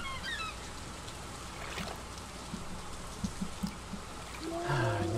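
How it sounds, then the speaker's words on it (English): Steady rain in the farming game Stardew Valley hisses as a soft, even wash of patter, with a few faint plinks and game chimes over it and no talk. "Nice rainy day"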